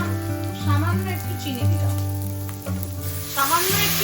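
Small shrimp fry in a pan with turmeric, Kashmiri red chili powder, coriander, cumin and salt, a steady sizzle running under music with tonal notes throughout.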